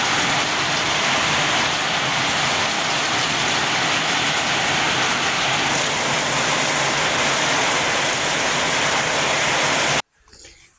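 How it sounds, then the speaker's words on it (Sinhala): Heavy rain pours down in a dense, steady roar that stays loud and constant, then cuts off abruptly near the end, leaving only a faint quieter sound. "මේ පාර නම් වැස්ස හොඳටම තද කරා"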